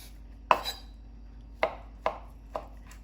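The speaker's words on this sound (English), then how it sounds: "Cut my sausage like so." Knife cutting through a sausage on a board: four crisp, separate chopping thuds, close and clear against a quiet room.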